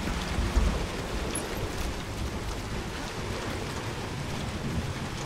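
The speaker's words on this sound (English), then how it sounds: "I want the heavy rain to stop though." Heavy rain pours steadily in the video game Hunt: Showdown, a dense, even hiss that holds at a constant level throughout with a low rumble underneath and no voices.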